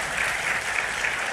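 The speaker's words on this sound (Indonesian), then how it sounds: "tepuk tangan buat Tuhan Yesus" A church congregation claps during a sermon, a brief, fairly faint wash of steady applause heard from a distance with no voices over it.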